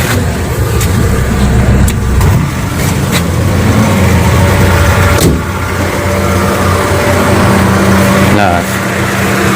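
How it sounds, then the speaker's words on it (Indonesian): Hyundai Atoz GLS 2001 engine running with the air conditioning off, a steady close drone heard from inside the car, with someone talking over it. "Suara mesin tanpa AC."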